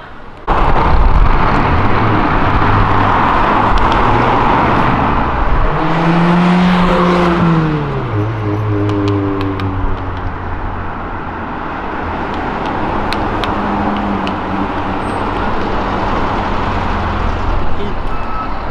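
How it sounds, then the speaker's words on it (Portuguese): Cars including a Subaru accelerating hard along Avenida Europa, loud roaring engines with a rising then falling pitch sweep as a car revs and passes close by, followed by sustained traffic rumble and fainter revs. "A gente ouve os roncos dos carros de boa"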